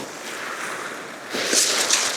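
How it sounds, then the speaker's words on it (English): Ocean waves breaking on a shore while bass fishing, a steady wash of surf that swells louder with a crashing break near the end, close and continuous with no talking. "Oh, the sound of them waves is just beautiful."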